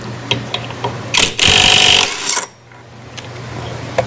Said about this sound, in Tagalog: tanggalin na natin yung pulley nut natin gamit tong 22mm at itong ating Makita impact wrench